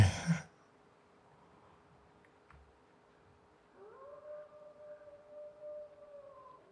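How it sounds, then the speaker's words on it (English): Wolves howl far off in the snowy wilderness of The Long Dark, a faint, wavering, drawn-out cry that rises and holds for a few seconds after a quiet stretch of near silence. "I know they're wolves, but at least they're far away, I think."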